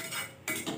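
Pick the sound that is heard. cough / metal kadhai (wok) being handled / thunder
metal kadhai (wok) being handled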